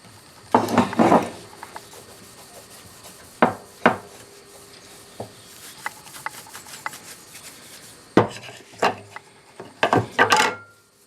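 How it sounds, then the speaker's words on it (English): Wax and oil being worked into a 1950s Record No. 4 wooden-handled hand plane: scattered bursts of rubbing and wooden knocks and clatters, close and fairly loud, separated by quieter pauses, with no talking. "wax and oil treatment."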